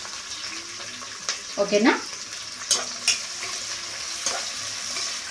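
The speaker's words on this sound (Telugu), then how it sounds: "నేను ఆనియన్స్ వేసేసుకుంటున్నా." Onions sizzling in hot oil in a pan while being stirred for coconut rice, a soft steady fry with a few scraping stir strokes and a brief spoken word.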